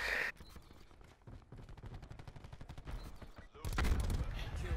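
Rapid gunfire from a Call of Duty: Black Ops 4 multiplayer match, with dense bursts of automatic shots through the middle and a louder blast near the end, playing under faint game sounds.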